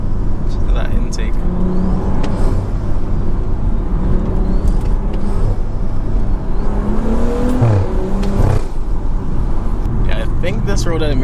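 A tuned Stage 2+ BMW is driven on the road, and its engine intake gives a steady, loud drone with slight rises in pitch as it pulls, heard from inside the car with constant road rumble.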